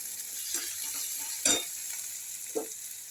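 Red spice paste frying in a pan for a bhindi dish, a soft, continuous sizzle broken by three spoon scrapes and clanks as it is stirred, close and fairly quiet, with no voices.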